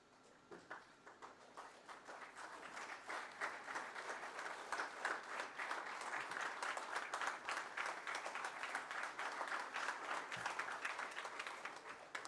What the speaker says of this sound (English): There were more claps, ma'am, for you, Sanjeevni ma'am.